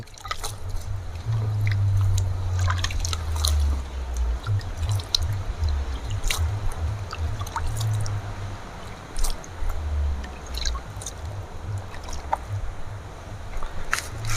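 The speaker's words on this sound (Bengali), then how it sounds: "এবারে আমি রুটের মধ্যে কিছুটা এই জলটা" Water poured around the roots of a rose plant being repotted in a tub, a steady low gurgling and splashing with scattered drips, close and fairly loud throughout.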